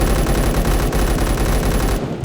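Rapid automatic fire from an XK416 rifle in the video game Bad Business, a loud continuous burst of gunshots that runs steadily and stops abruptly near the end, with no talking.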